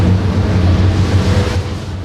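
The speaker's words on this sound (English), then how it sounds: "here now you hear turbines" Wind turbines give a steady, broad rushing whoosh mixed with a low droning hum, holding constant and fairly loud throughout with no voices.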